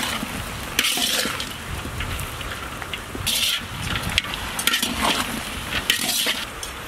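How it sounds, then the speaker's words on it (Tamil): Eggplant pieces frying in oil while being stirred, a continuous crackling sizzle with bursts of scraping and tossing from a spoon in the pan, close and fairly loud. "இப்போ கத்திரிக்காய் நல்லா எண்ணெயிலே வதங்கி நல்லா சுருண்டு வரட்டும்."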